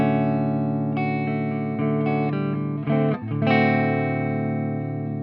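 Electric guitar playing single notes on the bridge pickup through a dry EVH 5150 50-watt EL34 amp, distorted and sustained, with no reverb, a steady run of picked notes up close.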